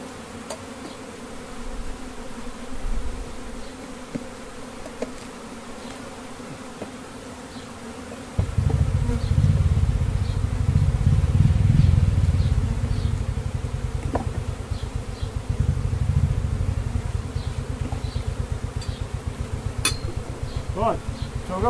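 A steady, close swarm of honey bees buzzes continuously, growing louder and denser partway through, with occasional light taps and knocks as they are shaken down for a varroa mite test.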